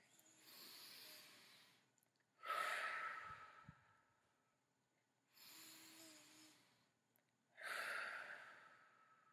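Slow, deep breathing done as a calming exercise: long, soft inhales and exhales in a quiet room, close and alone, with a few audible breath bursts separated by pauses.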